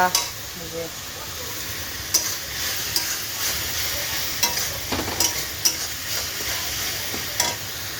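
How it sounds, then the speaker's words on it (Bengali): Fish curry spices sizzle and fry in a pan while being stirred, a steady hiss with intermittent scraping clicks throughout; faint speech-like sounds are present at times. "এখানে মাছের মশলা কষা হচ্ছে, মাছ ভেজে রাখা।"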